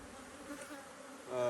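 Honey bees buzz steadily inside a hive being fed syrup for winter, a close, continuous insect drone that swells louder toward the end.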